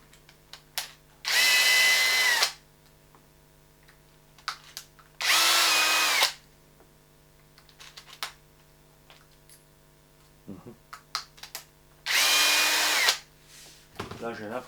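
Power screwdriver whirring in three loud bursts of about a second each while the mechanics of a Hobao Hyper 8sc RC buggy are taken apart, with small clicks and handling noises between the bursts.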